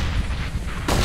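A grenade goes off in the Counter-Strike: Global Offensive video game, one short, dense blast that fills the moment and then a sharp second burst at the very end, with no talk.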